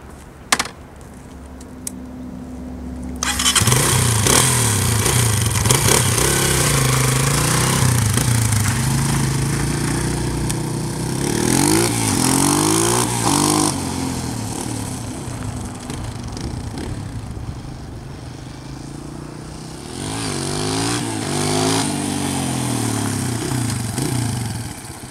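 A 2009 Honda CRF230 dirt bike starts after a few clicks and settles into a close, steady engine putter, with repeated rises and falls in revs from throttle blips, running alone for over twenty seconds.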